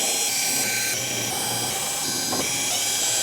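Power screwdriver backing out the perimeter screws from a Vizio E551i-A2 TV back cover, a steady high whine running continuously, close and fairly loud, with slight changes in pitch.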